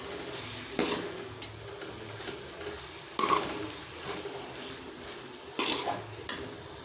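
A spoon stirs salna gravy in a pan over a low, steady simmer, with several sharp metallic scrapes against the pan spaced a couple of seconds apart.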